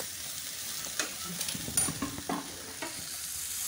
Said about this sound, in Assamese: এতিয়া এইখিনি ভালদৰে লৰাই ল'ব লাগিব, ভালদৰে সিজক